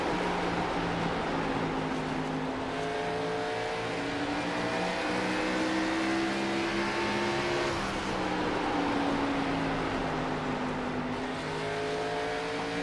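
Race cars lap Bristol in a racing sim game, a dense pack of engine whines rising and falling in overlapping pitch sweeps, loud and continuous, with no talking.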